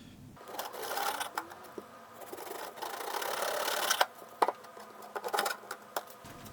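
A knife saws vertically through a dense, crustless panko bread loaf baked in an electric resistance oven, producing a steady close rasping crunch that fades into several short crisp crackles and taps.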